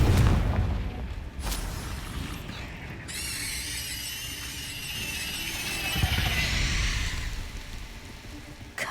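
A Confringo fire spell blasts off in Hogwarts Legacy during a fight with spiders, a loud booming burst followed by a crackling, shimmering magical tail that rings on for several seconds, with no voices.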